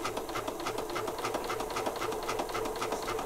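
A sewing machine stitches through glued paper, with glue gumming the needle and stitches skipping. It runs in a fast, steady mechanical patter, close and continuous, with no voices.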